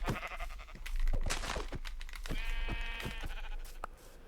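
Sheep bleats from the Minecraft video game sound out several times over soft crunching footsteps and clicks, moderately loud and close, with short pauses between calls.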